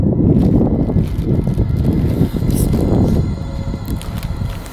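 Strong wind gusts outdoors at night in a village, roaring and buffeting close to the microphone in a steady, heavy rush with no talk.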